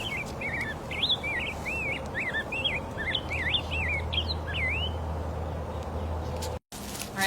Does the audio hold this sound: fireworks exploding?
no